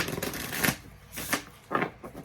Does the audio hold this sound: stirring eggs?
no